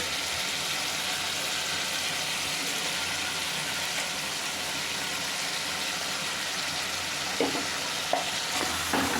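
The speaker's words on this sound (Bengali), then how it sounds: "অ্যাড করে এটা ভালো করে মশলাটা মাটনের সাথে মিশিয়ে নিচ্ছি।" Mutton korma in a hot pan: a paste of fried onion, cashew, tomato and yogurt is stirred into the mutton over steady sizzling, with a few sharper scraping strokes near the end.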